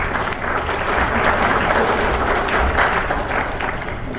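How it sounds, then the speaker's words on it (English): Applause from the audience at a school band concert as junior high students come to the stage, a broad, continuous wash of clapping held at full strength from start to finish. "give them a round of applause."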